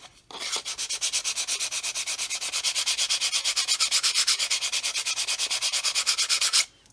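Steady back-and-forth sanding strokes on the edge of a model aircraft part, shaping a sharp trailing edge, close and rhythmic at an even pace of about six strokes per second, with no talk.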